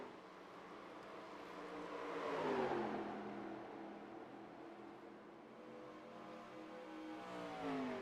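Vintage stock cars race side by side down the back straightaway at Charlotte in iRacing, a steady engine roar that swells as a car sweeps past mid-way, then settles into a sustained drone with rising pitch.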